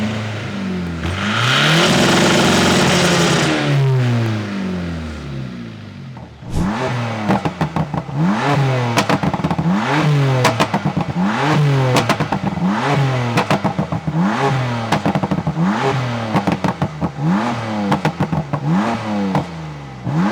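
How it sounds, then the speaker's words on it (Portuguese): Two race cars, a BMW M4 with 550 hp and an Audi A3 1.9 TDI PD with 400 hp and nitro, rev their engines one after another, first a long rising and falling roar, then a rapid run of sharp, loud repeated revs. "Vamos agora fazer um soundcheck aqui dos dois carros que irão participar nesta corrida."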